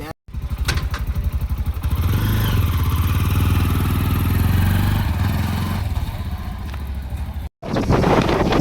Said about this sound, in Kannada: ಅದೇ ಗಾಡಿ ಹೋಯ್ತು ನೋಡ್ರಿ